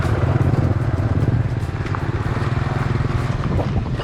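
A motorbike rides around the village roads of Koh Mook island in Thailand, its engine putting out a steady, close, loud drone with a rough pulsing rumble throughout.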